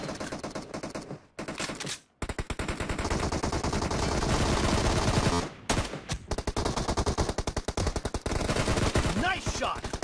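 Rapid automatic gunfire in the mobile shooter PUBG Mobile during a team deathmatch, long dense bursts broken by a couple of brief pauses, loud and close, with no talking.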